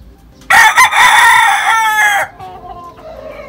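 A rooster crows loudly and close, one long crow, then softer clucking from chickens carries on underneath until the end.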